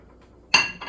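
Raw sausage meat, casing removed, is dropped into a frying pan, landing with one sharp, bright clatter and a brief ring of the pan after a quiet lead-in, followed by a softer second knock.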